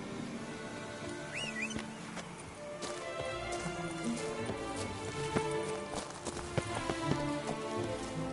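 In the Witcher 3 game, horse hooves clip-clop at a quick pace, faint and blended with rain pattering and ambient music.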